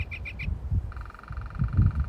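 A toy downy woodpecker gives three quick squeaky chirps, then a sustained buzzy whistling call over soft, low knocking of its beak pecking on wood.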